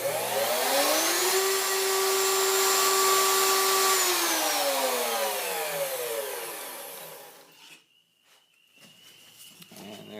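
A homemade slot mortiser cuts a mortise with a loud, whining motor that holds steady, then spins down and falls away into quiet shop noise.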